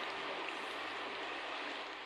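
Soft, even rain with splashing raindrops, a faint continuous wash of water that stays steady and quiet throughout, with no talking.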